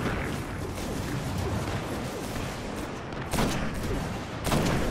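Rapid bursts of gunfire and crashing impacts in the video game Destiny's Prison of Elders, dense and loud, with sharp louder shots standing out near the end.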